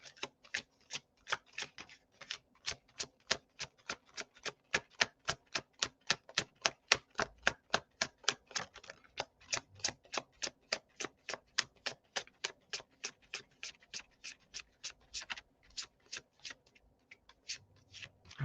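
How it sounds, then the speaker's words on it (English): A deck of Wizard's Tarot cards is shuffled by hand in a quiet room, giving a long run of crisp, evenly spaced clicks and flicks in a steady rhythm with short pauses, close up and without talk. "That was a good shuffle."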